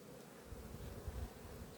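Honey bees hum steadily at a hive during an autumn inspection, a dense continuous buzz of many insects close by with no voices.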